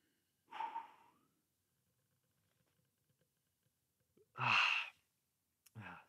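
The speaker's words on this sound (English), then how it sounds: "Sorry for yawning." A person breathes out in several audible exhalations during a quiet indoor session: one soft sigh early, then a longer, louder breathy yawn, followed by a shorter breath.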